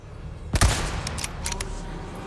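Gunshots from a firearm hitting an enemy in the Resident Evil 4 Remake video game: one loud, sharp blast followed by a few fainter cracks over a steady game-ambience bed, with no talking.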